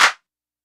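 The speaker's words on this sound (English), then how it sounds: "I like me a nice little multi-clap type sound" A single multi-clap sample, several layered hand claps fused into one short, snappy, bright hit that cuts off cleanly with no reverb tail.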